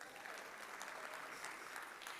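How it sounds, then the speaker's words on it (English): Conference audience at a Texas technology summit claps steadily for a couple in the crowd, a fairly faint, even wash of many hands with no break. "Everybody clap for them."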